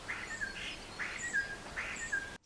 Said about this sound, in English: The starling's song consists of a combination of its own cries, which consists of a musical